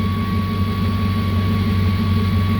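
Idling car engine on an Audi-swapped MR2 project car, a steady low rumble with a constant thin whine from the positive crankcase ventilation, loud and close.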